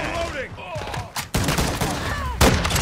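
Shotgun blasts in a first-person shooter video game, a few sharp loud booms spaced about a second apart, mixed with a player's voice talking.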